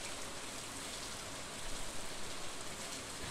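Steady rain falls in the farming game Stardew Valley, a soft, even hiss of drops on surfaces throughout, quiet and unbroken by voices.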